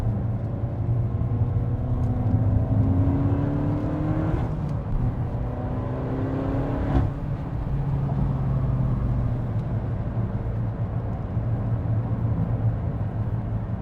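A Peugeot 308 GTi on warm-up laps at Anglesey Circuit: a continuous close engine drone with wind and road roar, pitch climbing and falling as it accelerates and shifts.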